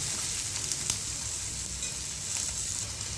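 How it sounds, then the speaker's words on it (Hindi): Finely chopped capsicum and carrot sautéing in a pan for crispy chilli potato, a steady dense hiss of sizzling oil with a few light stirring scrapes, close and unbroken, no voices. "अब इसी में हम डाल देते हैं बारीक कटा हुआ शिमला मिर्ची और बारीक कटा हुआ गाजर, और इन दोनों को भी हम अच्छे से सौटे कर लेते हैं।"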